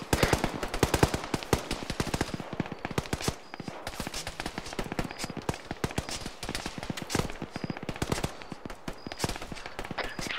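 Sustained gunfire in a military video game, dense bursts of automatic and single shots from a bunker and surrounding positions, loud and continuous for the whole stretch with no talk over it.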